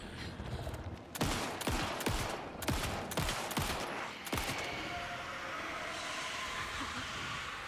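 A gun fires at an enemy in Alan Wake II: about half a dozen sharp, loud shots spread irregularly over four seconds, then a lingering low ambient rumble with no voices.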